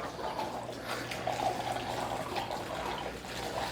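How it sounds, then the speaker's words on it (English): Water drains from a household radiator and trickles and splashes steadily into a bucket, a soft continuous pouring sound at low volume. "out the water goes into the bucket"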